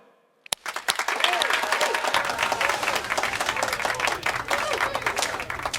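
Audience applause greets a prosecutor being introduced at a staged Korean mock-trial show, a burst of dense clapping from a sizable crowd that swells quickly and holds steady throughout, with some voices mixed in.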